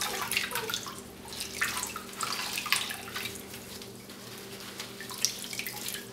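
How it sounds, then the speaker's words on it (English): Water trickles and drips as freshly dip-dyed fabric shorts are lifted out of a dye bath, a soft, continuous close splashing and dribbling with a few louder drips. "Wring them out, get all the dye out."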